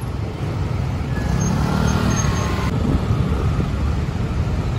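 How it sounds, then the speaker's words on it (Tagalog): Steady road traffic on Marcos Highway, a continuous roar of cars, buses and trucks rolling past close by, loud throughout with no talk. "Ako, traffic na."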